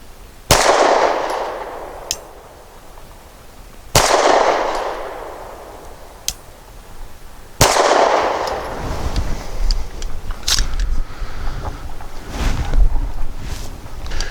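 Three sharp, loud pistol shots from a Gill Arms GPR 9mm firing 108 grain monolithic hollow point rounds, spaced a few seconds apart outdoors, each with a decaying echo, followed by faint clanks and rustling.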